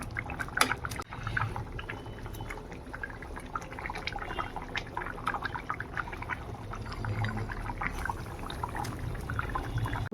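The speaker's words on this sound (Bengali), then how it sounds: "এই যে ভালো করে মাছের ঝোলটা ফুটেও গেছে। এবার আমি মাছগুলো দিয়ে দেবো।" Fish pieces go into a pot of boiling Bengali fish curry, giving a continuous bubbling, sizzling liquid sound with splashy pops, close and fairly loud throughout with no speech.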